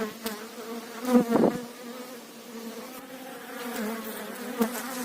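Honey bees from a hive with a one-legged queen buzz close and steadily, a dense droning hum with a few louder passes as individual bees fly near; no talking.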